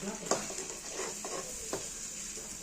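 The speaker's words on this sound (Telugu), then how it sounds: "ఇప్పుడు టమాటా పేస్ట్ వేద్దాం" Tomato paste going into a hot sizzling pan, a steady frying hiss with spoon scrapes and small knocks, up close and moderately loud.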